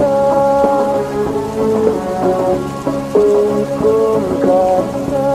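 Steady rain with thunder rumbling beneath it, heard alongside continuous melodic music playing throughout.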